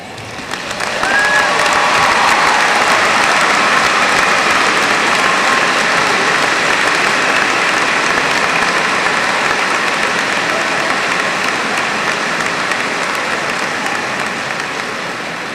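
A large audience at the 2002 LSHS high school graduation ceremony breaks into sustained applause honoring top-ranked seniors, a dense, steady roar of clapping that holds strong for the whole stretch without fading.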